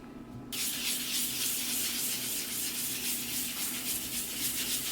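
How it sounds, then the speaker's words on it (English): Steady, continuous abrasive rasping of sandpaper on the back of a wooden Stratocaster-style guitar neck, close and fairly loud, with no talking. "More sanding, lots of sanding for the back of the neck."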